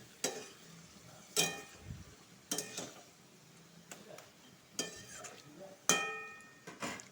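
Mushrooms frying with spices in an oiled pan, heard as a steady low sizzle punctuated by several sharp scraping stirs and clinks of a utensil against the pan at irregular intervals.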